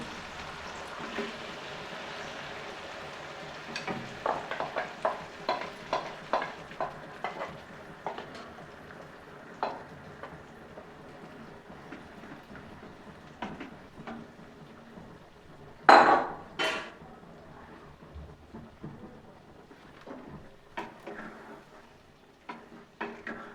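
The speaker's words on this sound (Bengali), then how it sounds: "এইবার ভালোভাবে কিন্তু পেঁয়াজের সঙ্গে আমি কিন্তু মাংসটাকে কষাবো" Marinated chicken is stirred and fried with onions and soft tomatoes in a pan for spinach chicken, a low steady sizzle under repeated spatula scrapes and metal knocks, with one loud clang midway.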